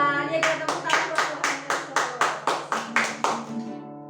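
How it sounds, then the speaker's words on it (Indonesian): A children's Sunday worship group at a church claps in unison, about eight sharp, evenly spaced claps in a steady rhythm over a sustained musical backing, fairly close and clear. "Ya kita tepuk tangan buat"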